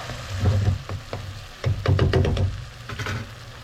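Shrimp dropped into a pan of frying pancit bihon set off loud, close bursts of sizzling and crackle in several waves, with brief knocks of stirring between them and no talk.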